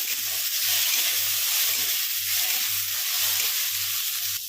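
Tomatoes and spices sizzle steadily in a pan on a gas flame for a Hindi-style potato, capsicum and onion curry base. A continuous close frying hiss plays alone, with a low pulsing hum underneath.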